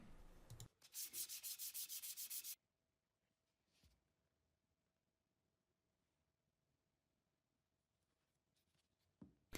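A short burst of scratchy, rhythmic rubbing of 320-grit sandpaper on a foam block over wood, close and brisk, then near silence with a faint tap and a final scrape.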